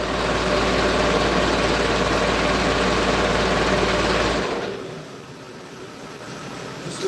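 A diesel farm tractor idles with a steady low rumble that holds loud and even for several seconds, then drops off sharply to a quieter background hum.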